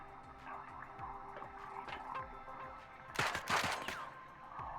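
Bursts of video game gunfire aimed at the player crack in quick rapid volleys, a loud cluster of shots rising midway over a quieter run of clicking impacts and hum.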